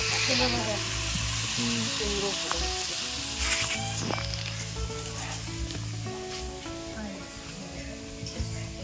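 Food sizzles and fries steadily over an outdoor wood fire in a village yard, with tonal background sounds and faint voices running through the whole stretch.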